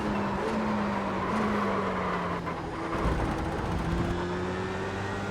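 A damaged F3 single-seater race car limps back toward the pit lane, its engine droning steadily with a slowly shifting pitch, close and continuous through the clip without any talk.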